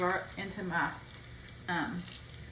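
Garlic, peppers and onions being stirred as they fry in a pan, a soft steady sizzle beneath a person talking close by.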